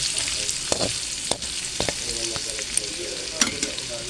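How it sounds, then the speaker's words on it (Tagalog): Kangkong with fried tofu and pork being stirred in a frying pan with oyster sauce: a loud steady sizzle broken by repeated sharp scrapes and clacks of a utensil against the pan. "yung ating kangkong ilalagay na natin. Hahaluin po natin yun."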